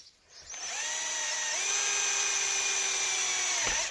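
A power drill drilling a hole during a Suzuki FZ50 engine restoration whines up to a steady high-pitched spin, holds it for a few seconds, then winds down abruptly; close and loud, no talking.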